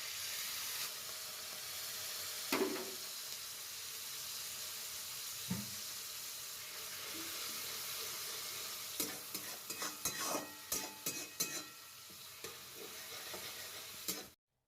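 Ginger and green chili paste fries in a pan with a soft continuous sizzle. A few isolated knocks come early, then a quick burst of scraping stirring strokes follows near the end.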